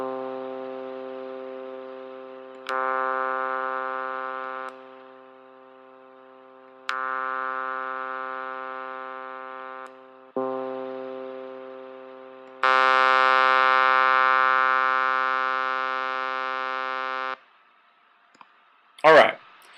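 A sustained synthesizer note with the filter cutoff lowered is played several times in a row. The last one, through a 12 dB filter, is brighter and fuller, and a short burst of noise follows at the end.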